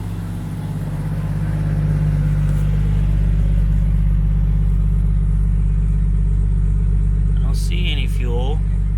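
A Jeep engine idles steadily just after starting, a close, loud low rumble holding even throughout, with a brief squeaky mechanical chirp near the end.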